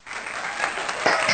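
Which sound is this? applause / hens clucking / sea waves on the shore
applause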